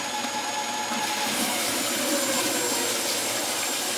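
Powerful water jets driving a Schauberger turbine, a steady loud broadband hiss and rushing roar with a faint high whine, constant throughout without talk.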